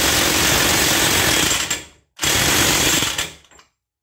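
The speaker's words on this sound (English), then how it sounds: "I'm gonna throw the axle nut on there." An impact wrench tightens the axle nut on an S550 Mustang. Two loud, close, sustained rattling bursts of about two seconds each are separated by a short pause, then silence.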